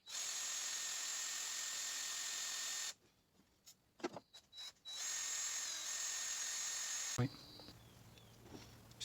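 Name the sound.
drilling with a small drill bit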